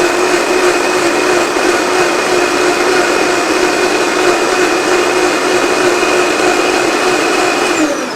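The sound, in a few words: blender pureeing Sungold tomatoes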